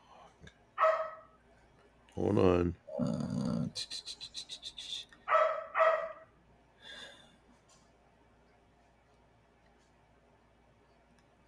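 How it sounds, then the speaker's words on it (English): Dog barks in short bursts indoors, a few single yips and a quick run of rapid barks, close and fairly loud, with a person talking in between. "Dog."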